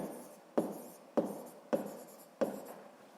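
Handwritten notes being jotted during a seventh-grade physics lesson: four crisp scratching strokes land at a steady, roughly even pace, close and fairly quiet, each trailing off into a soft rasp, with no voices present.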